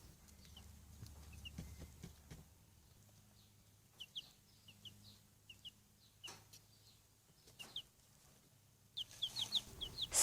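Few-days-old chicks cheeping in short high peeps, scattered in small clusters and growing busier toward the end, faint and close against a quiet background.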